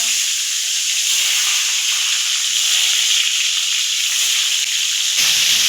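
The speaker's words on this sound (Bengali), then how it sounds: "বেগুন ভাজা শুরু করলাম বন্ধুরা।" Eggplant frying in oil, a loud, steady high hiss of sizzling that runs unbroken, with a brief shift near the end.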